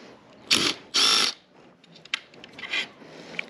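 A wrench pulls bolts from the battery of an electric KTM Freeride E-XC dirt bike: two loud, close rasping ratchet bursts, then quieter scattered clicks and scrapes, with no voices.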